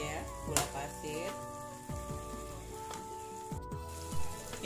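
Food sizzling and frying in a pan with sugar added, a steady close crackle with occasional stirring clinks, while faint background music plays underneath.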